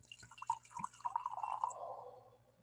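Scotch whisky poured into a glass outdoors on a back porch, a short close liquid trickle with a few drips that swells over a second and then tails off, with no talking.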